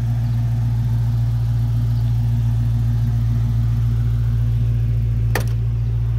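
Supercharged Cobra R V8 in a 1965 pro-touring Fastback Mustang driving, a loud steady low engine rumble throughout with one brief sharp click near the end and no talking.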